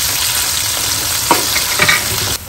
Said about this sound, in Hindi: अब जाएगा इसमें प्याज को हल्का सा फ्राई कर लें।